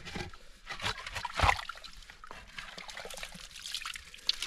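Water trickling and pouring through a freshly dug hole, with irregular splashy gurgles and a brief louder gush midway, close by and fairly quiet, with no speech.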